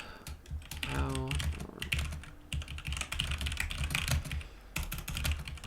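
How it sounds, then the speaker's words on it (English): Typing on a computer keyboard: a steady run of quick, close clicks and taps, with brief pauses between bursts and no talk. "I'll quickly move this to type on my keyboard and write a poll"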